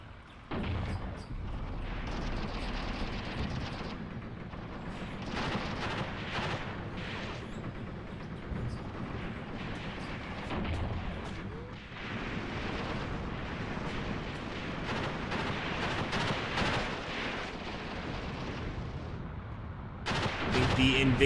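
Continuous, dense battle noise from a video game depicting a modern South Africa–Angola war, with gunfire and artillery rumbling together steadily throughout, loud and unbroken.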